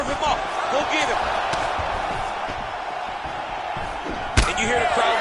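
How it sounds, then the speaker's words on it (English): Arena crowd in the UFC 5 mixed martial arts video game roars and swells throughout a fight, with a sharp impact spike near the end as strikes land, a dense steady murmur of cheering under faint commentary. "you hear the crowd react every time they come together because they understand the power that these guys are striking with"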